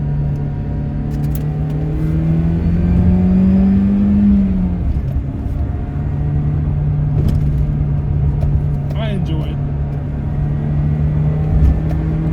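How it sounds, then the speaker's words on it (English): A BMW E30's M42 engine drones at steady high revs from inside the cabin, rising briefly then holding its pitch, with a short spoken remark over it. "It's just this M42 engine. The revs are always up no matter what gear you're in."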